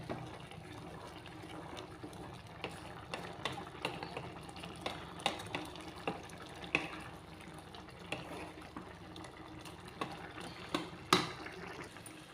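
A soya and chana dal curry simmers in a pot, with soft bubbling and liquid plops alongside occasional sharper clinks from stirring, close by and fairly quiet without speech.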